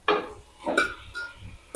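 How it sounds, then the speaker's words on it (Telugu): Raw shrimp and eggs dropped into a cooking pan, several sharp metallic clinks and knocks of utensils against the pan at uneven intervals, close and moderately loud, without speech. "ఈసారి వేసేస్తున్నాను రొయ్యలు గుడ్లు."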